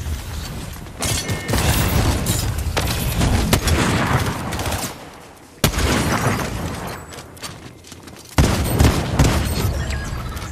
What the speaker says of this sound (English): Oh, nice snipe.